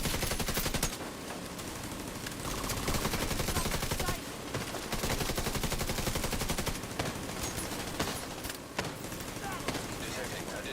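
Shotgun fire in a shooter game as a player fights an armed convoy: dense, rapid, loud blasts run nonstop throughout, mixed with other combat noise and game voices.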